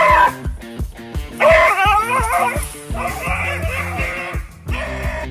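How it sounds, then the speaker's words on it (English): A dog barks and yelps repeatedly in excited bursts, over a rhythmic musical beat. "This dog's bark is definitely worse than its bite"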